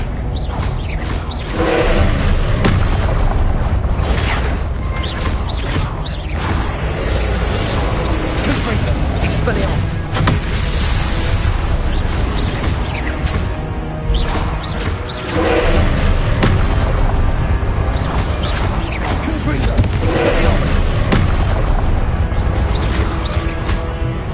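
Confringo blasting-spell explosions in the video game Hogwarts Legacy come as repeated booms and thuds under dense, busy game noise, with a voice shouting spell names throughout.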